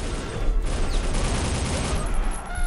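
Dense overlapping enemy gunfire and explosive bangs from the shooter game Soldier of Fortune, a loud sustained fusillade with heavy low rumble throughout.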